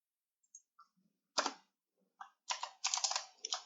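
Typing Java code on a computer keyboard, scattered soft key clicks then several quick bursts of close keystrokes, quiet and without talk.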